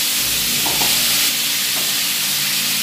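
Pieces of chicken dropped back into hot oil for chicken karahi sizzle loudly in a steady, continuous hiss, close and alone with no talking.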